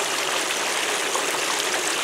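A water pump spraying water at a gold prospecting dig in a national forest, giving a steady, loud broadband rush and hiss with no pauses, close by and with no voices.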